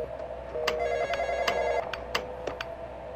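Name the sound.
telephone ringing in the horror video game Intruder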